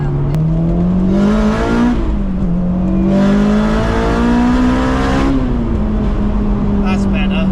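A turbocharged Honda S2000 engine drones steadily, its pitch rising and falling with throttle, with rough bursts of popping and misfiring layered over the loud, close exhaust note.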